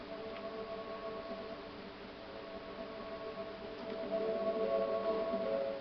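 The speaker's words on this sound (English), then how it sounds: "That is the sound of the beacon." A low, steady electronic hum from a Minecraft beacon block drones continuously with faint layered tones, slightly swelling near the end, quiet and ambient with no voices.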